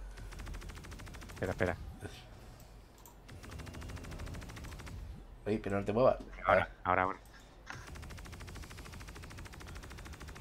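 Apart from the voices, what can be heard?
gunfire in video game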